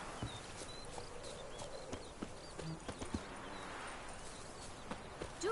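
A horse's hooves clip-clop in The Witcher 3 game, a faint, steady walking rhythm under a hazy ambient bed, with no talking.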